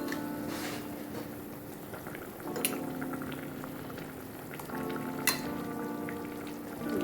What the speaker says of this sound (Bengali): ঝোল মোটামুটি ফুটতে শুরু করেছে, এবারে আমি পটলগুলো এর মধ্যে দিয়ে দেব।